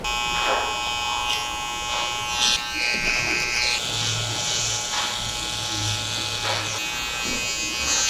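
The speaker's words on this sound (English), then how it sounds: "Just going to run clips over now it's dry, just to create a slightly boxier finish." Electric hair clippers buzz steadily over dry hair at a barbershop, a close continuous drone with brief shifts as the blades pass through the hair, with background murmur and faint talk.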